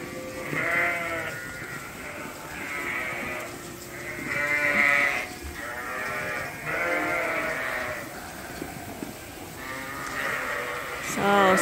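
Several sheep bleat repeatedly in a farm pen, close and fairly loud, a string of wavering calls one after another with people talking now and then.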